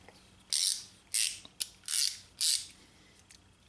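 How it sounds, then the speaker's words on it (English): A GearWrench ratcheting wrench clicks through its mechanism in five short, close rasping bursts at a fairly even pace, with a small tick between them. "Ratcheting mechanism feels good"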